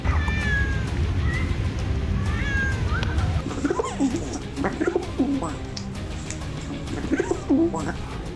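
Several cats meow and yowl in drawn-out, rising calls, overlapping with cooing pigeons and a low rumbling background, the cries clustered near and moderately loud.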